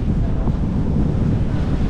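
Strong wind roars across an open-water sailing passage in the Caribbean between Barbuda and Guadeloupe, about 17 to 22 knots, mixed with rushing waves and buffeting against the microphone, loud and continuous with no talk.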